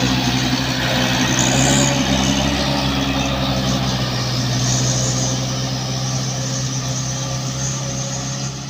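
A Colt diesel truck engine revs and strains continuously during a roadside evacuation after a crash, a loud, sustained mid-range drone that fluctuates slightly while the driver keeps accelerating.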